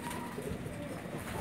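Soft, low cooing from Pakistani pigeons, faint against a steady hiss of background noise.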